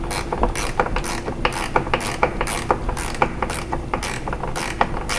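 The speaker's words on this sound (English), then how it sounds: "I've got a ratchet wrench to help me speed things up a little bit." A ratchet wrench clicks rapidly while tightening bolts in a cramped spot during installation of an ArmorTech door limiter, giving a loud, close, steady rhythm of sharp ratcheting ticks with no talk.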